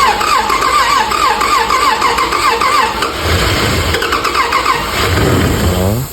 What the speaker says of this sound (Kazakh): Қозғалтқышымызды орнатып, жинап болдық.